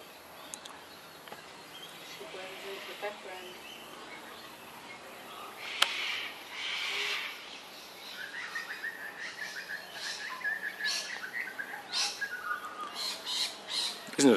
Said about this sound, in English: Isn't it exciting watching birds eat?